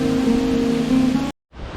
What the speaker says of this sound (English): But here's the waterfall.